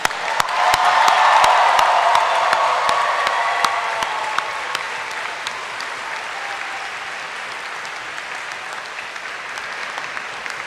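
Graduation ceremony crowd at the University of Dundee gives a long, full round of applause in a hall, loudest at the start and gradually thinning to steadier, quieter clapping.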